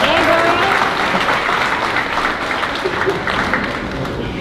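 Audience applause at a school fifth grade moving-up ceremony, a dense, sustained wash of clapping from a crowd, loud and continuous, fading slightly toward the end.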